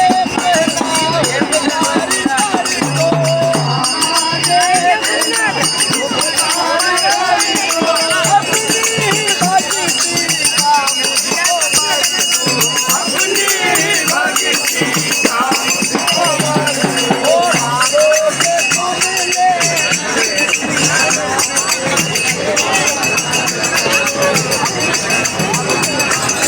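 Devotees chanting kirtan amid a dense, noisy crowd at the Maha Kumbh in Prayagraj, a steady wash of voices and rhythmic singing filling the whole stretch without pause.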